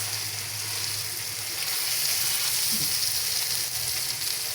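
Baim fish cooks in a pan with a steady, dense sizzle and hiss, close and even throughout with a slight swell midway.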